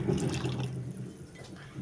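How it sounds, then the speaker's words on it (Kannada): Water is poured into a pot of curry, a close, full gush and slosh that gradually thins out over a couple of seconds. "ನಾನು ಇದನ್ನು ಸಾರಿಗೆ ನೀರು ಹಾಕ್ಕೊತೀನಿ ರೀ"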